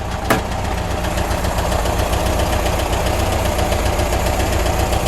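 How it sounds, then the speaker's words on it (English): A 1974 Porsche 914 with an air-cooled 1.8 L mid-mounted engine runs at a steady idle, close and loud, with a single sharp click near the start and no talk. "The engine is a mid-engine."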